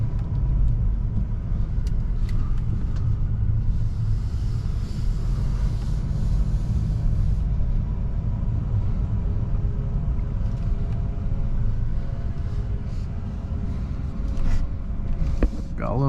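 A 2023 Mercedes-Benz C300 being driven, giving a steady, loud low road and engine rumble that carries on without a break throughout, with faint cabin noises on top.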